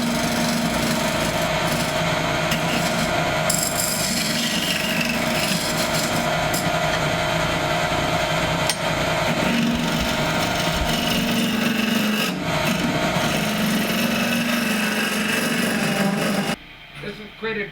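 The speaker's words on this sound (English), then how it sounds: "this tool helps smooth out the inside before sanding" A scraping tool rasps against the inside of a wooden bowl spinning on a wood lathe, producing a loud, continuous grinding scrape with a steady motor drone that cuts off abruptly near the end.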